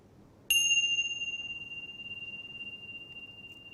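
A single mindfulness bell struck once, a clear ringing tone that sustains and slowly decays toward silence over several seconds, alone against quiet room noise.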